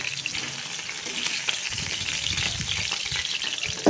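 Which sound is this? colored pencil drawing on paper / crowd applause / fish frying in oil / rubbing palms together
fish frying in oil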